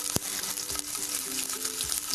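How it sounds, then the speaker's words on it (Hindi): Red and green capsicum sautéing in a hot pan, a bright steady sizzle close up with soft scraping stirs and a single sharp clack near the start. "फिर इसमें डाल देंगे रेड एंड ग्रीन कैप्सिकम"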